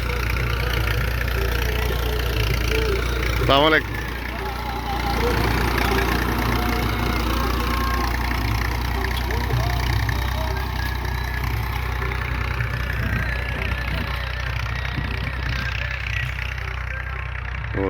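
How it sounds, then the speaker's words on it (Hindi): A tractor engine idles with a steady low rumble in a guava orchard in Punjab, continuous and fairly loud throughout, with a brief greeting spoken and a short whistling sound partway through. "ये ट्रैक्टर चल रहा है।"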